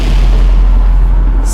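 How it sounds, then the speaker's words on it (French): An explosion sound effect tied to a devastating blast of the Void booms very loud and close, a sustained deep rumbling roar that fills the short moment without pause. "déchaîne une explosion dévastatrice"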